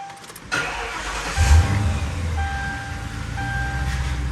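A lifted Mercury Grand Marquis engine cranks and catches, then settles into a steady, close idle. No one speaks.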